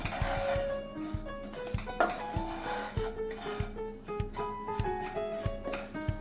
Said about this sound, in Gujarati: મેં નાળિયેરનો ભૂકો લીધો છે તેને પણ આપણે શેકી લઈએ ચોખાના લોટની સાથે